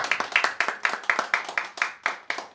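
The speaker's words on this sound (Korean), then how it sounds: "박수를 한번 치겠습니다" Congregation clapping at a Sunday afternoon worship service in a church, a quick run of about a dozen sharp, evenly spaced claps, close and clear with no talk over them.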